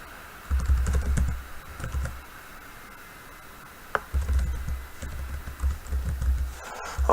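Typing on a computer keyboard: quick clusters of light key clicks in short bursts with pauses between, close and fairly clear over a steady low hum, no talking.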